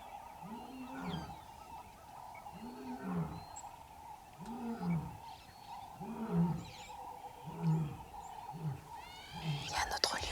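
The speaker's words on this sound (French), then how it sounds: "Il y a un autre lion qu'on entend derrière" A lion in Tanzania roars in a slow series of deep, grunting bursts, about eight evenly spaced calls, with a steady hum and faint birdsong in the background.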